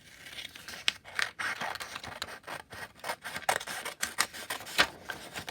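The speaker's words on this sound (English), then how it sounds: "then you're going to cut it in half, right down the middle, down that line" Scissors cutting a sheet of paper in half down a folded line for a Rapunzel's tower craft, a series of close crisp snips and paper rustles, no talking.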